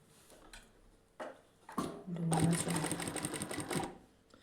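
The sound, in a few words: sewing machine stitching a nightie hem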